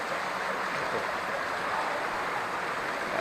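Steady, continuous rush of water from a waterfall stream at Mae Kampong during the rainy season, a dense broadband roar held at even loudness throughout with no voices.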